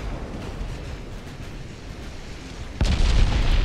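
In the naval battle game Ultimate Admiral Dreadnoughts, 11-inch guns fire a single heavy boom that bursts out of a low rumbling sea-and-battle ambience near the end, followed by a sustained roar.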